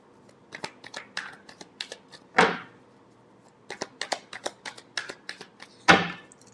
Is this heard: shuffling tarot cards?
yes